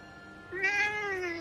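A single close, clear cat meow from the video game Forspoken, rising and sustained for about a second over a quiet background.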